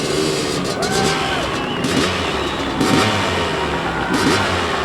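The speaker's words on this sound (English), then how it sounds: "guns the engine" Robbie Knievel's stunt motorcycle engine revs repeatedly before his Grand Canyon jump, rising and falling whines over a crowd's murmur and a voice talking.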